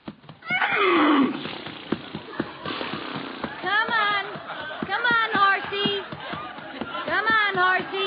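A milkman's horse whinnies loudly several times, its high wavering neighs rising over steady background noise with faint hoofbeats.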